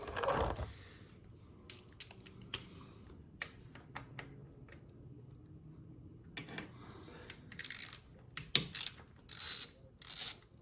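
A hand ratchet loosening 8 mm bolts on a 2024 Honda Grom during an oil change gives short, sparse clicking bursts near the mic, with quiet gaps and a quicker flurry of clicks toward the end.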